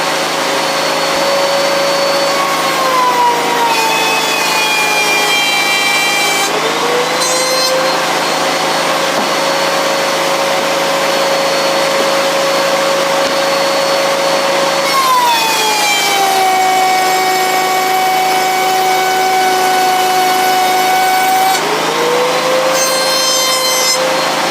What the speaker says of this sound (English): once the router table's set up, it's time to route